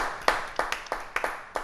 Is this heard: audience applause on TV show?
yes